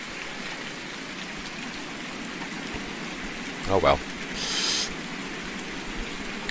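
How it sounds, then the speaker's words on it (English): Rain falls steadily in the Farming Simulator 19 video game, a dense, even hiss that continues from start to end, with a short spoken remark and a brief higher swish partway through. "It would be nice to not have so much rain."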